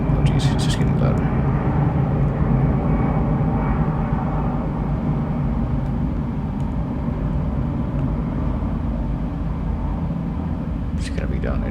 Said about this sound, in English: echoey airplane noises from outside